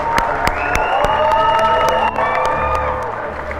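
A crowd claps and cheers at a marriage proposal, with scattered handclaps under loud, drawn-out whoops and shouted voices.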